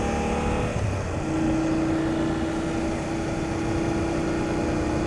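A motorbike being ridden gives a steady, loud engine drone mixed with rushing wind noise that runs without a break, with no talking.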